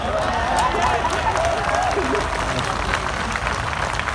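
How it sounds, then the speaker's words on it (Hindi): Audience applause at an Urdu poetry mushaira in Karachi, a steady wash of many hands clapping that stays fairly even throughout, with faint voices mixed into the crowd. "यार इतनी कम तालियां।"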